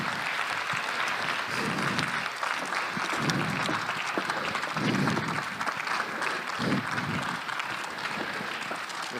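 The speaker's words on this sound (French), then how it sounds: "Vous pouvez les applaudir." An audience claps for guests being invited on stage at a talk, a sustained, even wash of applause from a fairly large crowd lasting several seconds with no speech on top.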